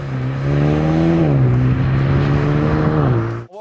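A Mercedes CLA 35 AMG with a 302-horsepower four-cylinder engine drives on a race track, its engine droning steadily and loudly with pitch shifts between gears, close and continuous before cutting off abruptly at the end.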